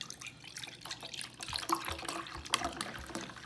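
Root beer is poured into a cup, a soft, close trickle and splash lasting a few seconds, with small irregular drips and gurgles and no talking.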